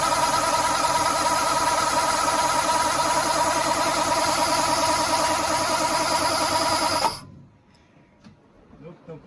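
A 1940 Mercedes barn-find engine runs loud and close with a rough, steady idle, then cuts out abruptly, leaving near silence with faint handling noise.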